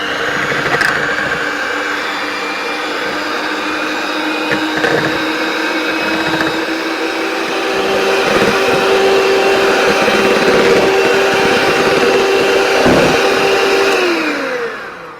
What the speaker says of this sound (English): I'm going to add a tablespoon of castor sugar, and we're going to whisk this until we get stiff peaks.